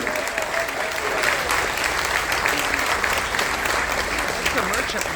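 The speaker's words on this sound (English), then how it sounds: "Give yourself a round of applause, everybody" A roomful of people aboard a Carnival Dream cruise ship at a military appreciation event claps steadily for Coast Guard members, a dense, even round of applause lasting throughout with some voices mixed in.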